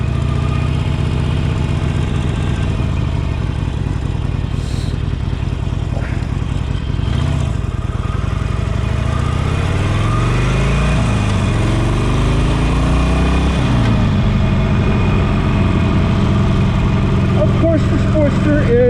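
A 2018 Harley-Davidson Sportster 48 Special with an Evolution 1200cc engine idles with a steady low rumble close by, while someone talks over it throughout.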